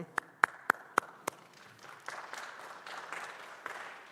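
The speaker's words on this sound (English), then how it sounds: "We all deserve a round of applause sometimes." A concert audience claps, with a few sharp, separate claps up front and then a soft, steady patter of applause from a moderately distant crowd.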